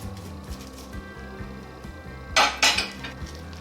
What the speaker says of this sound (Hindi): हरा धनिया, मिर्च और सब स्पाइसेस शामिल करके अच्छे से मिक्स कर लेती हूँ